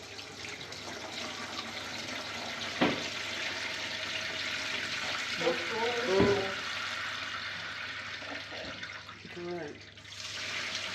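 Whey poured off cheese curds while making cotija, a steady liquid pouring and splashing that runs through most of the clip, with a few brief knocks and a voice speaking briefly.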